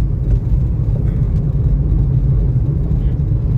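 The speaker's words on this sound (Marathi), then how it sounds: "सगळ्या लोडिंग गाड्या आहेत आणि फुल आहेत, एकदम पॅक सगळं ट्रॅफिक आहे इकडे बघा" Heavy road traffic packed with fully loaded goods trucks, a steady loud low rumble of engines close by with no clear individual passes.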